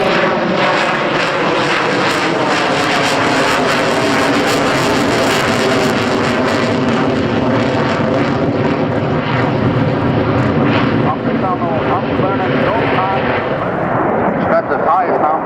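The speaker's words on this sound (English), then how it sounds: "After that, pilot turn on the" A jet fighter at an air show roars loud and close, its afterburner blasting in a broad, sustained rumble that swells and slowly fades, with a commentator talking over it.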